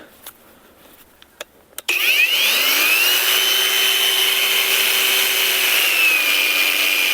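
A Grosser GAG 120KB cordless angle grinder: a few light clicks, then the motor whirs up and holds a loud, steady high-pitched whine close by, with no one speaking.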